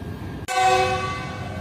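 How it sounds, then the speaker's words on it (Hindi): A departing train's horn or whistle at Karachi Cantt railway station, starting abruptly about half a second in as a loud, sustained tonal blast over the station's background rumble, with no voices. "ट्रेन ने अपना फर्स्ट डिपार्टिंग व्हिसल ले दिया है"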